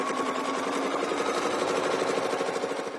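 A domestic sewing machine stitches steadily while ruler quilting an arc along a quilt border, giving a continuous rapid mechanical whirring and clatter with no pauses.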